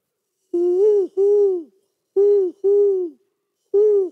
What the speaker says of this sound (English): we heard owls all night. Because this is the time when owls are looking one for another.